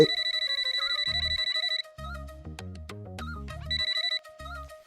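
A mobile phone plays a bright electronic ringtone, first a fast repeating trill, then a rhythmic melodic tune with a bass beat, loud and alone.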